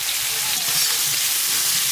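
Brinjal slices fry in a pan with a loud, dense, continuous sizzle and crackle, close and steady with no voices.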